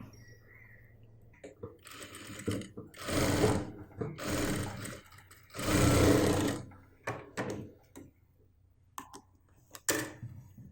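Sewing machine stitching fabric for a churidar bottom, several loud close bursts of rapid mechanical whirring separated by quiet pauses and small clicks.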